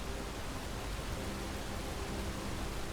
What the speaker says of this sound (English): I think that's just a straight waterfall. Yeah, that's literally just a waterfall.